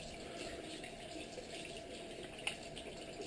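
Tap water runs steadily while a limescale-treated faucet part is rinsed under it, a faint, continuous splashing hiss with one brief knock near the end and no talk.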